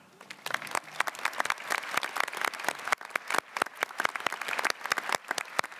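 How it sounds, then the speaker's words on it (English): An audience at a 2022 SILS commencement ceremony claps for an award recipient, with moderately loud, scattered individual claps from a modest crowd that continue steadily throughout. "thank you for clapping for her"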